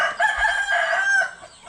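A rooster crows once, close and loud, a single drawn-out cock-a-doodle-doo call on a rainy early morning in a rural province.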